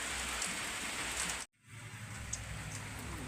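Steady rain falls close by in an even hiss of drops on surfaces, broken for a moment by a brief silence before it resumes.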